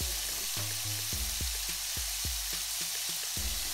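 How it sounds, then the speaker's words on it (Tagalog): Swordfish pieces frying in hot olive oil in a pan give a steady, close sizzle with crackling, several sharp bursts as the fish settles, no voices present. "Pag mainit na, ilagay na natin ang swordfish."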